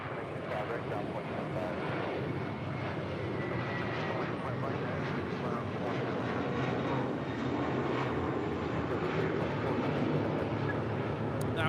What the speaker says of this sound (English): That was JetBlue 320 forward departing to JFK on an A321